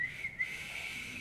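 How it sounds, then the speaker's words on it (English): A single steady whistled tone held for about a second, with a small pitch lift partway through, close and fairly quiet. "I can whistle for you"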